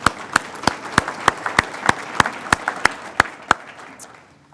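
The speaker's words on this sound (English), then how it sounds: "Let's give our sponsors another round of applause." An audience claps in honour of event sponsors at a leadership talk, a steady, evenly spaced run of sharp claps that sounds almost rhythmic and tapers off near the end.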